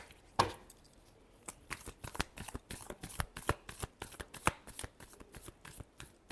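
Tarot cards are shuffled by hand in quick repeated riffles, a crisp rhythmic run of sharp flicks and slaps, close and clear with no talk.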